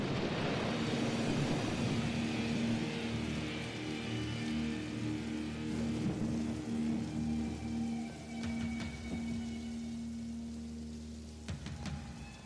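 Steady rain pours and patters on a surface in a dense, even hiss, with a low sustained hum underneath, fading slightly toward the end, as the opening of a song.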